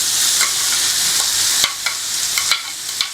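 Onion and carrot fry in oil over moderate heat, a close, bright sizzle with a few sharp stirring clicks and scrapes, no talk.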